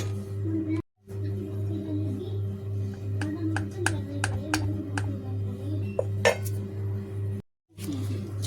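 A spoon stirs khaman batter, made with turmeric and soda, in a bowl, giving scattered light clinks and taps against the rim. A steady hum runs underneath with two brief dropouts.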